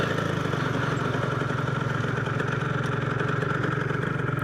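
Yamaha TZR 250R two-stroke motorcycle idling at traffic lights, a close, steady, rapid burbling pulse with an even rhythm throughout and no voices.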